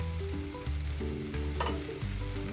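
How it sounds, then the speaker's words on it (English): Steaks for carne asada searing in a hot pan, a steady dense sizzle and crackle of frying meat, close and continuous with no talking. "Steaks have been on for 5 minutes. I'm gonna flip these buddies."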